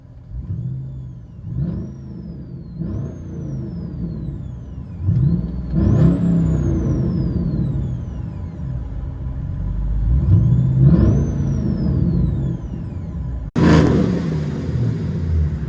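A Chevy Avalanche LTZ with a 5.3L V8 and aftermarket exhaust, heard from inside the cab: a steady engine drone swells through several revving accelerations and shifts, loud and continuous, with no talking.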